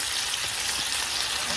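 Pork sears in a hot frying pan, giving off a steady, even sizzle and crackle that fills the moment with no other sound.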